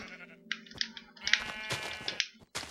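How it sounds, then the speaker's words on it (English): A sheep bleats in the video game Minecraft, a few short bleats broken up by quick clicks of keyboard typing, all fairly quiet. "That sheep just scared the piss out of me."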